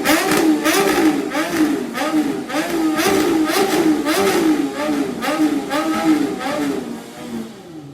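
A BMW S1000XR motorcycle exhaust revs repeatedly from about 6,000 RPM upward, loud and close, with rhythmic rising-and-falling bursts that fade toward the end.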